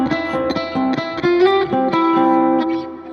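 Clean electric guitar lead from the intro of a song, a quick run of plucked, ringing notes in a lilting repeated figure, close and unaccompanied.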